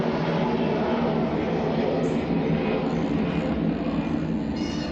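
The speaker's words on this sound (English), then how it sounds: "Another airplane." An airplane passes overhead as a steady, broad, rumbling roar that fills the whole stretch at moderate loudness, heard alone with no talking.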